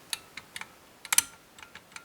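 A six-pin double-bitted lock being picked gives off sparse, sharp metallic clicks and ticks, close and crisp against near silence, with one louder cluster of clicks in the middle.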